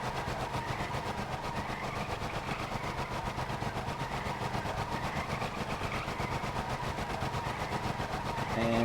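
A vehicle engine in the Stormworks game runs steadily in third gear, holding a constant, dense low drone with little change in pitch from start to finish and no voices over it.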